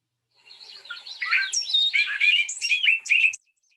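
An eastern meadowlark sings a burst of rapid, metallic, robotic, electronic-sounding chirps and whistles, bright and close, with no talking.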